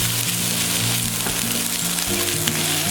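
Bacon fried rice stir-fries in a hot pan with a loud, continuous sizzle and crackle up close, with steady scraping of a spatula and a low hum running underneath.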